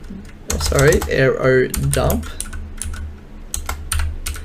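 Quick, light keystrokes on a computer keyboard type a command, close and crisp, with someone speaking over the first half before the clicks continue alone.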